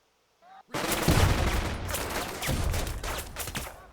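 Squad gunfire erupts in the tactical war game Burden of Command: a dense, loud fusillade of rifle and machine-gun shots that follows a brief quiet, with overlapping bursts rolling on continuously.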